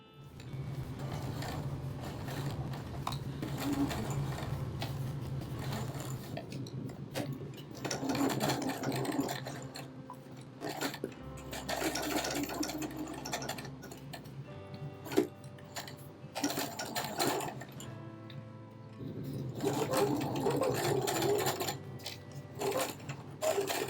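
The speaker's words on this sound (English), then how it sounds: "top stitch the whole thing closed using tonal thread where required" Sewing machine top stitching a fabric cat tail piece with tonal thread, running in close bursts of rapid mechanical ticking separated by short pauses and small handling clicks.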